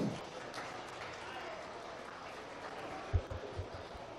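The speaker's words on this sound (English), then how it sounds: "Let's give those exhibitors a round of applause." Spectators at a meat goat show give the exhibitors a round of applause, soft and distant clapping spread through a large arena, with a few louder knocks near the end.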